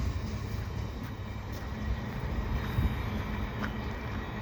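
CN freight train passing Dorval station in winter snow, a low, steady rumble and rolling rail noise at moderate distance, continuous throughout with no voices.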